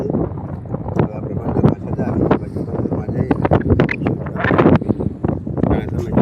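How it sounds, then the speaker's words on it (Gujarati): Strong wind at sea aboard a fishing boat in rough waves gusts and buffets in loud, uneven rumbles, while someone talks over it. "મોજો ખૂબ થઈ ગયો પવન વધારે છે"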